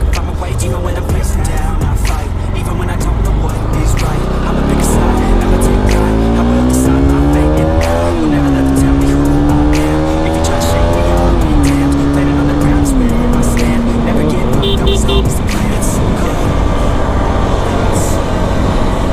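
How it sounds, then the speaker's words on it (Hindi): A Bajaj Pulsar NS200 BS4 motorcycle runs at top speed on a road, its engine note climbing through the gears in a loud, continuous roar with steady wind rush close to the mic. "टॉप स्पीड हम अपना बाइक का आज चेक करेंगे"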